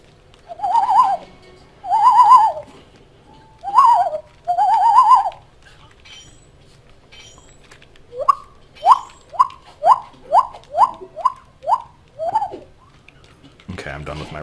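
A man imitates birds with his voice, first four slow drawn-out coos, then a quick run of about nine shorter hooting coos, loud and close.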